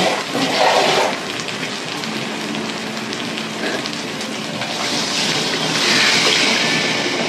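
Water pours steadily into a hot pot of sautéed taro and potato for crab curry, a continuous rushing hiss with bubbling and sizzling underneath, close and fairly loud.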